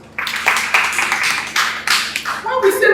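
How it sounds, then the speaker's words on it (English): Audience members clap together at a consultative dialogue and training session, a loud burst of many hands in ragged rhythm that carries on throughout, with voices and cheers rising over the clapping toward the end. "Clap for yourselves."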